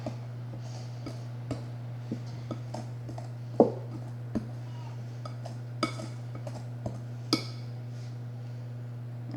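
A pastry blender cuts fat into flour in a bowl, making sparse, irregular metallic taps and clinks against the bowl over a steady background hum, with no talking.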